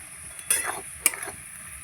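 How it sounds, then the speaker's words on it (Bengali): Beans sautéed with chilli powder, salt and turmeric in a pan for a dried fish curry, with a soft sizzle and three sharp spatula scrapes against the pan, close and quiet. "ভালো করে এবার কষাবো"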